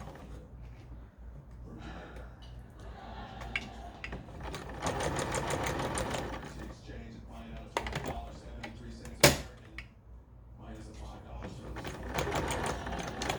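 Sewing machine stitching a bucket hat, its rapid mechanical whirr running in bursts of varying length with brief pauses and a sharp clack midway, heard close up with occasional quiet talk.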